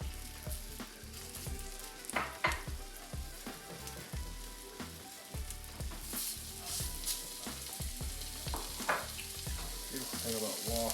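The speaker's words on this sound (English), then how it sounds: "so I'm not even going to wait for the wok to warm up because we are all getting hungry. It's sizzling quick." Homemade chicken fried rice in a wok, a close steady sizzle and crackle with scraping and stirring strokes scattered throughout, no talk.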